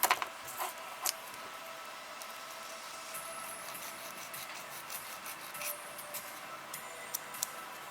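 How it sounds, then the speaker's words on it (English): Sanding of small plastic parts from a Bandai Y-Wing Vehicle Collection model kit, a steady faint rasping rub with a few sharp clicks and ticks, close and quiet. "Let's just sand these guys even here."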